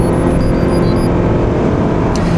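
A modified 2017 Subaru BRZ with aftermarket exhaust idles or runs steadily, a dense, loud low rumbling drone with a constant engine hum and no voices.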